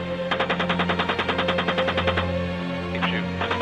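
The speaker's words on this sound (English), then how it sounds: "Keep shooting." Sustained burst of heavy machine gun fire from a helicopter, a rapid, evenly spaced stream of loud shots that stops abruptly, then a brief further burst, with an engine drone beneath.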